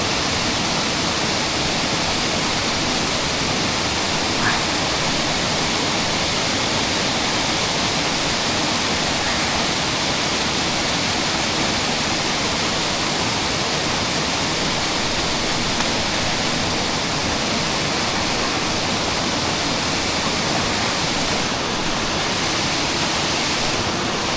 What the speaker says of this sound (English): all 10 of those steelhead that we caught last week made it up this waterfall right here